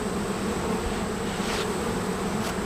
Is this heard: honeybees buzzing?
yes